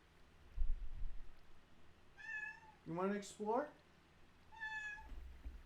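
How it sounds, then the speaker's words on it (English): A pet cat meows twice, clearly and close by, with a person talking softly to it in between. "Sorry about my cat."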